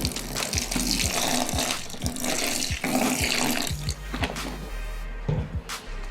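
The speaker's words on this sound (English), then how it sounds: "So now we are going to add 2 liters of water as we are mixing slowly." Two liters of water poured into a batch of homemade toilet cleaner while it is slowly mixed, a steady rushing gush with repeated low knocks and stirring sounds running underneath.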